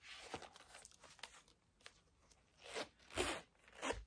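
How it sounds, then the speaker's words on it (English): A Coach accessory case is zipped closed with a phone inside. Quiet, close scratchy rasps come in short bursts, growing louder toward the end. "and it zips right inside."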